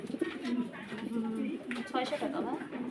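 Pigeons coo with low, throaty calls at a fancy pigeon farm, sounding repeatedly up close while people talk over them.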